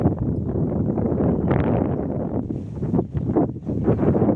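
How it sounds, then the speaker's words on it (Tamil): A cool wind blows across an open farm field, buffeting the microphone with heavy, low rumbling gusts that swell and dip unevenly over a few seconds. "நல்லா ஜில்லுன்னு காற்றடிக்குது"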